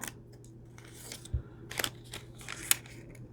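Scissors trimming paper to make an envelope give a few crisp, close snips scattered through otherwise quiet room tone, with no one talking.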